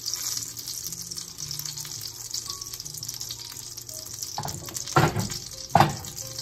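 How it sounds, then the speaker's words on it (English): Omelette eggs being stirred with a high-temperature spatula in a hot pan, a soft continuous sizzle with light scraping, then two louder clacks of the spatula against the pan near the end, no talk. "we'll just get a high temperature spatula like this one. And we'll just go around a little bit and kind of agitate the eggs just a little bit."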